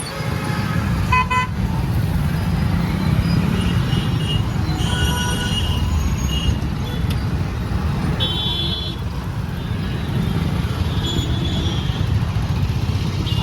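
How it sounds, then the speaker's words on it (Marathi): A traffic jam on the road out toward Ramdara, a dense rumble of engines with several car horns tooting at different pitches, some near and some farther off, and faint voices mixed in. "काय फुल ट्रॅफिक जाम"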